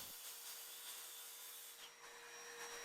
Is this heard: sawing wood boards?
yes